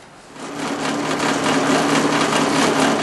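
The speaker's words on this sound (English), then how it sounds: "Let's get to the drill press." A drill press bores through clamped wood pieces, giving a continuous whirring, grinding drone that builds slightly and holds steady without any talk.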